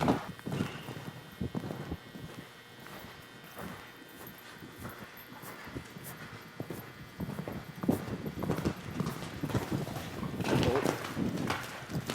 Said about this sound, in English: now they're going to pick up the canter